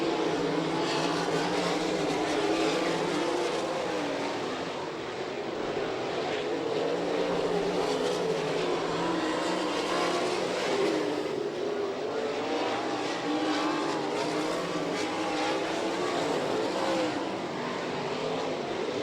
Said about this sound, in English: Jeff Shepard closing in on Byron Reed, trying to take that number 2 spot away as they make their way out of turn 4